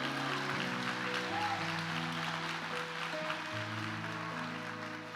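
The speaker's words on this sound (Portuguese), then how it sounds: "pode aplaudir o Senhor." A church congregation claps during a live service while sustained organ or keyboard chords play underneath, the applause a soft, distant wash that stays fairly quiet throughout.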